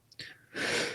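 One sudden sneeze from a person during a talk, a sharp intake and then a loud, breathy burst close to the mic, with no words spoken.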